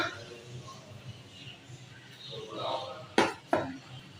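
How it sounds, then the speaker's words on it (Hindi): A spoon stirs black chana aloo chaat with lemon and green coriander in a bowl, soft scraping then two sharp, close metallic clinks near the end, with no talking. "इसको अब स्लोली सा मिक्स करेंगे"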